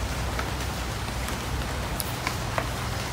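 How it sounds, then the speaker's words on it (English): Rain comes down steadily in a constant hiss, with a few sharper drips and taps breaking through now and then, close and without any talking. "That's what I say to my birds when it's raining like this."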